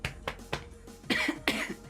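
A series of sharp, dry coughs, five or six bursts in quick succession, close and fairly loud with short pauses between.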